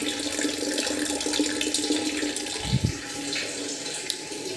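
Tap water running steadily into a container, collected for cooking in a home kitchen, a constant close rushing stream with a brief low thump partway through.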